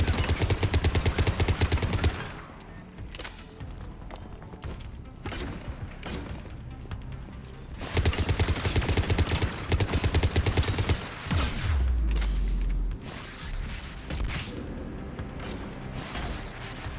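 Missile launcher fire in Mass Effect 3: loud, dense bursts of launches and explosions in two heavy stretches, with a deep rumbling blast near the end and a busier, quieter battle din between them.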